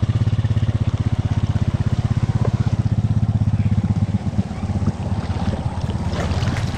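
A four-wheeler driving through a deep creek, its engine chugging in a fast steady pulse, loud and close, with water churning and splashing around it.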